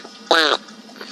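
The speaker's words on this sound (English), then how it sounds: "A duck." A duck gives a single short, loud quack, close and alone against a faint background.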